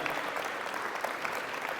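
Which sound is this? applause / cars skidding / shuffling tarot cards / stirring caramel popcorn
applause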